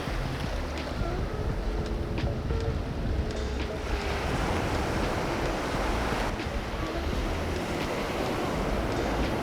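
Ocean surf on a beach sounds as a loud, continuous wash of breaking waves mixed with heavy wind buffeting the microphone, with no voices.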